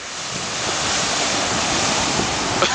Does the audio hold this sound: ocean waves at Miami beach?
yes